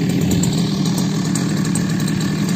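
A Matsumoto floating water pump engine, used for semi-manual spraying of shallot fields, runs steadily nearby with a loud, buzzing small-engine drone and rapid even pulsing throughout.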